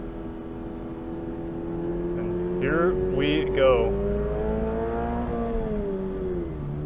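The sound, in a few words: 2022 Toyota GR86 engine revving in track mode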